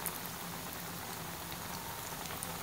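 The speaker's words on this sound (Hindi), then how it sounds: "मीडियम फ्लेम पर फ्राई करें" Potato cutlets fry in oil over a medium flame, giving a steady, dense sizzle and crackle that runs evenly throughout, close and moderately quiet, with no voices.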